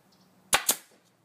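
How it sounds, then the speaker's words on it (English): Two sharp snaps from a staple gun firing 1/4 inch staples into an interior panel, close and loud, in quick succession with quiet before and after. "1/4 inch staples in my staple gun."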